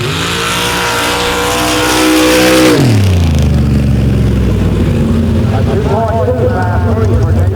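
Super stock drag car on a 125-foot track, running shaved DOT-approved rear tires, screams through a loud high-revving launch, the engine pitch climbing then dropping sharply at a gear change before pulling hard again, close and dominant throughout.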